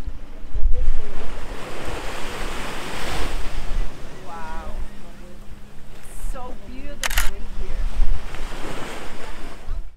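Surf washes and rolls against the shore on Bonaire with gusty wind buffeting the microphone, while a few voices are heard in the background.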